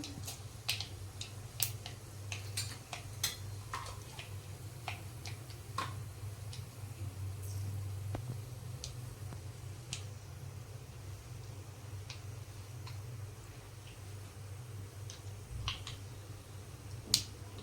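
Mustard seeds crackling in about two spoonfuls of hot oil, with sharp little pops and ticks scattered unevenly over a low steady hum and no voices.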